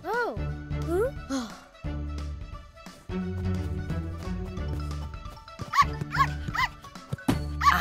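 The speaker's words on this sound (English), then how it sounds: "What a cheeky little puppy." A cartoon puppy yips and barks in quick, close bursts, with busy background sound running underneath.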